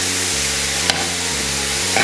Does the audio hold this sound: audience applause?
no